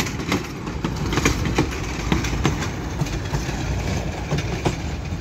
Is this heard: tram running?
yes